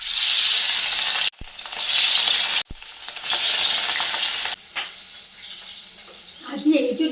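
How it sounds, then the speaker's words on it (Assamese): Fish sizzles loudly in hot oil in a pan, bursts of crackling frying broken by short pauses, then quieter sizzling with faint clinks toward the end. "মাছখিনি ভাজি লওঁ"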